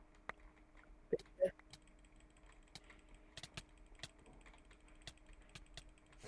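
Sparse, quiet clicks and clacks from a computer keyboard with cola spilled on it, keys struck irregularly in small bursts with some sticky-sounding taps, close and otherwise nearly silent.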